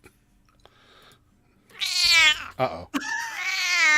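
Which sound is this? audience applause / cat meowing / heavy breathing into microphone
cat meowing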